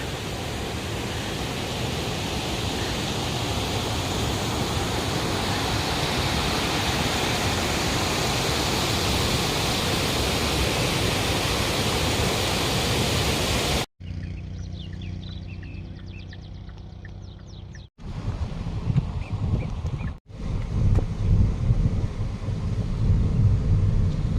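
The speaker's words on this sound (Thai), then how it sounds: "เรามาดูน้ำตกกันค่ะ" Steady broadband rush of a waterfall in Italy filling the scene, loud and continuous, then cutting to quieter, more distant flowing water with faint gaps.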